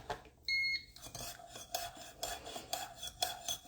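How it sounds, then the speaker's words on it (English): A spoon clinks and scrapes against the sides of a cup as honey is stirred into herbal tea, a run of light, close, rhythmic metallic taps and rubs with a brief high tone near the start. "I'm stir that honey up"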